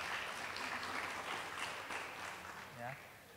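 A classroom of schoolgirls claps at the teacher's lead, a brief burst of applause mixed with faint voices, heard at a distance and fairly quiet.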